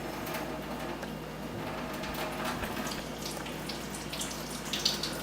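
Tap water runs steadily into a sink while a kiwi is rinsed under it, a soft continuous hiss and splash at low level with faint handling noises.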